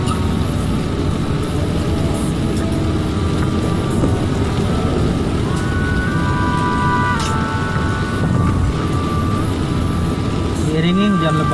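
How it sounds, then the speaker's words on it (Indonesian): Heavy rain pours on the Kertasari flyover in Jakarta as traffic streams past, a dense, loud and continuous wash of noise with engine drones and a brief rising tone near the end. "Diiringi hujan lebat ya."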